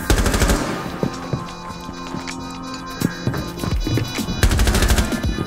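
Gunshots from the tactical shooter Rainbow Six Siege, with bursts of rapid automatic fire opening and closing the stretch and scattered single cracks between them, loud and close over a busy game mix.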